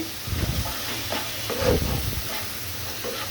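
Spiced food sizzling and frying in a pan while being stirred, a steady hiss with soft scraping bursts of stirring throughout.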